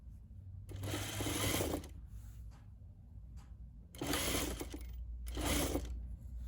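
A sewing machine stitches along the seam of a bodice dress in two bursts of steady, fast mechanical whirring, separated by a quieter pause, with a low background hum throughout.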